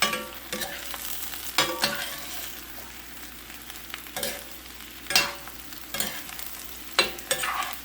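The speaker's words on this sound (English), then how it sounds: "give this a stir to kind of get that oil coated on some of these" Vegetables frying in a little oil in a pan are stirred, with a steady sizzle broken by about eight sharp scraping clatters of the utensil against the pan.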